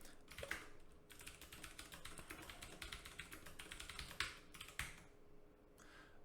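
Rapid, continuous typing of Haskell code on a computer keyboard, dense clicking keystrokes with a few brief pauses and sharper taps, close and fairly quiet with no voice.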